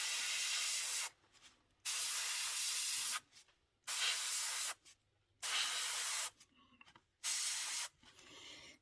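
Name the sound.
spraying paint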